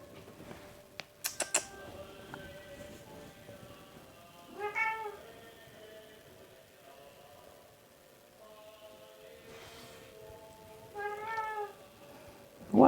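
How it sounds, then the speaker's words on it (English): A domestic cat meows twice for attention, two clear drawn-out calls separated by several seconds, with a few sharp clicks near the start and quiet room tone between. "I have the cat demand attention."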